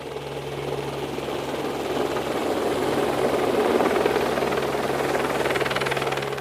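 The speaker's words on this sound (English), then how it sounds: "the helicopter is coming now" A helicopter arriving for a rat bait drop in the bush, its steady rotor thrum and engine drone growing slightly louder and closer over several seconds, alone without voices.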